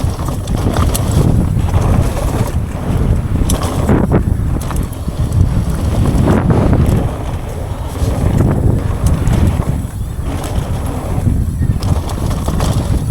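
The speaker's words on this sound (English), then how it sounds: "Whoa, it's windy." Strong wind roars continuously across the microphone at Dyfi BikePark, a loud buffeting rush with gusts rising and falling throughout and no clear voices.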